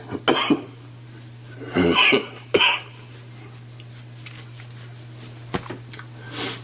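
A few harsh coughs come in separate bursts, some in quick pairs, over a low steady hum. No speech.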